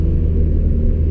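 A remapped Audi A3 1.9 TDI diesel with a hybrid turbo at full throttle in third gear, a loud, steady, low engine drone and road rumble heard from inside the car.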